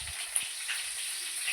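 Fennel seeds sizzle in hot oil in a home kitchen, a steady soft hiss and crackle with faint low thumps from the pan, moderately quiet and continuous.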